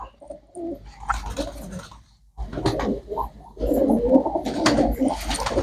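Pet pigeons cooing close by, several birds overlapping in soft, throaty, repeated coos with short pauses, growing fuller and busier in the second half.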